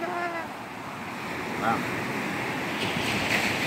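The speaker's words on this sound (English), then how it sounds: "Because I love to be at the beach." Ocean surf at a Boston beach on a cold morning: a steady broad wash of waves with wind rumbling against the microphone, and a brief voice near the start.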